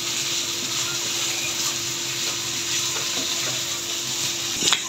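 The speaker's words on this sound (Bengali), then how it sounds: "সে নিজে ভাজি করতেছে" Leftover rice frying in a pan with garam masala, a steady close sizzle with light stirring scrapes and a brief clatter at the end.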